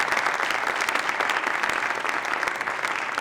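Steady, full audience applause at an award ceremony honoring Santiago Ramón y Cajal at the Cajal Museum, dense clapping held at an even level throughout.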